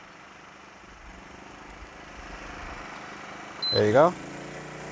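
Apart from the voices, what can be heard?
Champion 2500W dual fuel generator running under heater load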